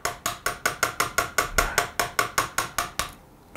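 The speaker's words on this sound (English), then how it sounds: "So I'm going to take my 16th inch punch and start tapping that through." A 1/16 inch punch tapped against a pin in a Beretta shotgun receiver, giving about fifteen crisp, evenly spaced metallic taps close up, then quiet.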